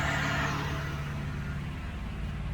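Engine of a 1972 Range Rover held at a steady 2000 RPM with the throttle wedged open by a half-inch bar, a constant close idle-like drone with no change in pitch.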